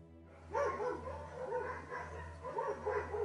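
A new puppy whimpers and yips in a series of high, nasal cries at close range while being held, over a steady low electrical hum.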